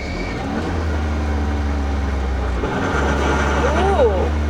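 A CFMOTO Z10 side-by-side fitted with a clutch kit and an ECU tune, its engine droning loud and close as it rolls downhill, with a brief dip and then a rise in revs, and voices talking over it.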